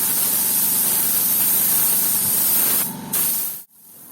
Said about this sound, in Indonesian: Selanjutnya tinggal kita semprot aja.